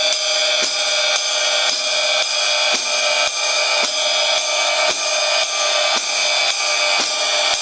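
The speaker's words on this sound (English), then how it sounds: "So it's going to sound like this with quarter notes on the ride and 2 and 4 on the hi-hat." Swing drum pattern with steady quarter notes on a ride cymbal and a hi-hat on beats 2 and 4, a dense shimmering cymbal wash with regular pulses, close and loud with no talking.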